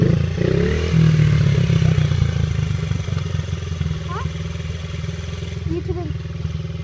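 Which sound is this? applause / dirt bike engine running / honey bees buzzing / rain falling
dirt bike engine running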